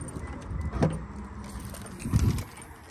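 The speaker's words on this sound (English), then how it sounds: "Let's take a look in the trunk. Open it right up." Trunk of a 2016 Toyota 4Runner being opened outdoors, with two dull mechanical clunks about a second apart, a latch release followed by the hatch lifting, over quiet background rumble.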